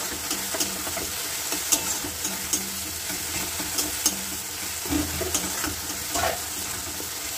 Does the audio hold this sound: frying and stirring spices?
yes